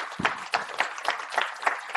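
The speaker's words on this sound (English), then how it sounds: "Give him a round of applause." A seated audience at a morning startup pitch event gives a brief round of applause, a steady patter of clapping at moderate distance with no talk over it.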